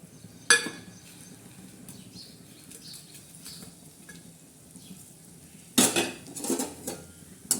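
Mustard seeds tempering in a pan for lime and green chilli pickle, with sharp metallic scrapes of a spoon at the start and a loud burst of stirring clatter and crackle near the end, quiet hiss between.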